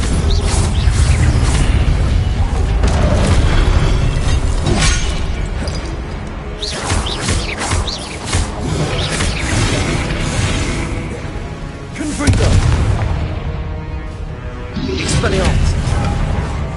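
Confringo blasts in Hogwarts Legacy, loud booming bursts recurring every few seconds amid whooshing spell effects, with a voice calling out over the fighting.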